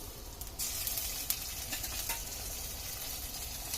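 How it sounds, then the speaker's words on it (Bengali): Ginger garlic paste added to browned onions frying in a pan for a pangas fish bhuna, a dense, steady sizzle that jumps up suddenly and holds with faint stirring scrapes. "আমি দিয়ে দিচ্ছি আদা রসুন বাটা"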